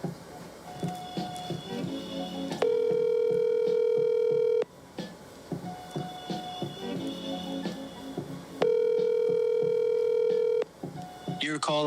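A phone call being placed: dialing sounds, then two long, steady ringback tones separated by a busier stretch of tones and line noise, loud and close.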